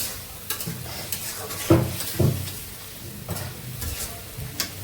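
Masala frying in a pan with a soft continuous sizzle, broken by several spoon-scraping stirs and a couple of clinks against the pot, close by, with no talk.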